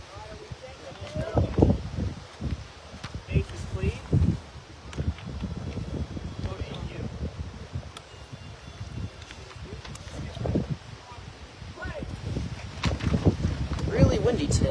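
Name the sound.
wind blowing into microphone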